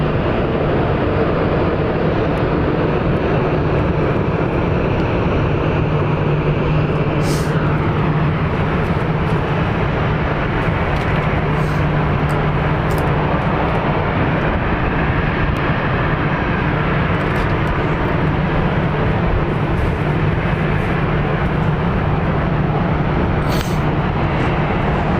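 Jet airliner taxiing at Phoenix Sky Harbor International Airport, a steady broadband engine roar with a low hum, fairly loud and continuous, alone without talk.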